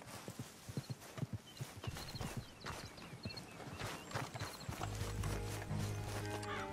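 Rapid clip-clop of horse hooves pounding close by in the video game Red Dead Redemption 2, with a short whinny, before a sustained low tone settles in at the end.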